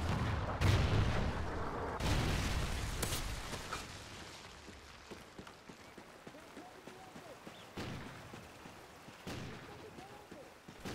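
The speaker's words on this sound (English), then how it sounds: "Friendly Trinity rocket inbound." Trinity rocket strike in Call of Duty Ghosts team deathmatch: heavy booming blasts and bursts of gunfire at the start, then scattered fainter gunshots and explosions, with voices in the game talking.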